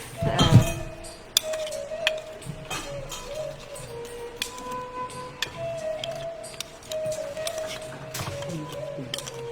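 Flattened rice poha is tipped into a bowl, giving a burst of dry rustle at the start followed by scattered light clinks and ticks of dishware and utensils under a faint background hum.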